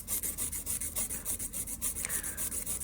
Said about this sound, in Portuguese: vou posicionar a minha lixa aqui e vou fazer esse lixamento com precisão